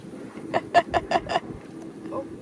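A bird calls from near an airboat in the Everglades, giving a rapid series of five loud clucking notes and then a fainter call. The bird is an American purple gallinule, and there is no talk over the calls.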